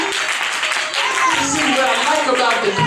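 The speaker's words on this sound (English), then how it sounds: "Clap your hands" A church congregation claps hands, brisk clapping mixed with voices and music in a reverberant hall, continuous for a few seconds.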